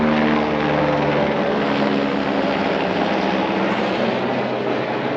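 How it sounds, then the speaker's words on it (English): A loud, close helicopter roars steadily overhead during an outdoor goose cook on goose season opening day, with its dense rotor and engine noise filling the whole stretch without a break. "Helicopter."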